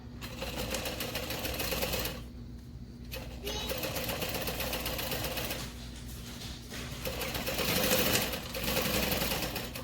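A sewing machine bastes fabric in quiet bursts of rapid stitching, broken by short pauses, heard fairly faint and close.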